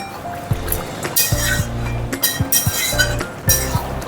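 A spoon stirs a thickening bottle gourd and poppy seed curry in a pan, giving repeated clinks and scrapes against the metal in an uneven rhythm, close and moderately loud.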